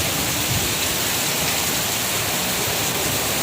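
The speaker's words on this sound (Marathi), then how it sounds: "बापरे किती मुसळधार पाऊस पडत आहे" Heavy monsoon rain pours down steadily in Vasai onto a hut roofed with coconut fronds among trees, a dense, loud hiss of water filling the whole scene without pause.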